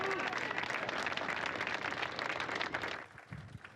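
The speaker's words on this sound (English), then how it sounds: "a big round of applause for Norbert Kish" Applause for a race winner at the Nürburgring in Germany, a dense steady clapping from a crowd that fades and thins toward the end.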